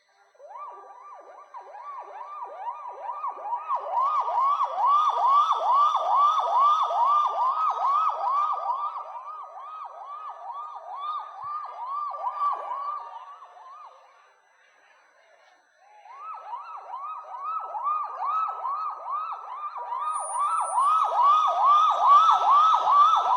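A mimicry artist imitates a police vehicle siren with his voice, a loud, steady wailing whoop repeated in long rising and falling cycles, with a brief pause midway before the siren resumes.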